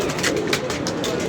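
Pigeons cooing among a kept flock, a steady murmur of soft low coos running throughout with a continuous rustling background and no clear pauses.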